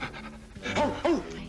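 A man pants rhythmically in imitation of a dog, quick breathy huffs rising to two louder bursts, close and alone without speech.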